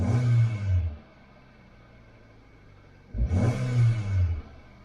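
A car engine revs up twice, each burst a loud, rising roar lasting about a second, separated by a steady low idle hum.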